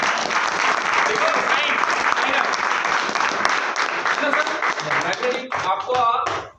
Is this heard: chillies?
no